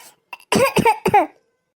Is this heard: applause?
no